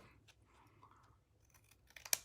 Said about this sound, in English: I'm just using big scissors so I don't have to cut so much